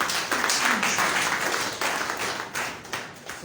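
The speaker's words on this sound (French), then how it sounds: "Et nous allons encore l'applaudir pour lui dire merci." Audience at a general assembly applauding a presenter after her talk, a steady dense clapping that holds evenly throughout at moderate loudness, without any voice on top.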